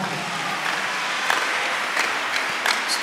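A church congregation gives a clap offering, a steady spread of many hands clapping at moderate volume, with a few sharper claps popping out near the end.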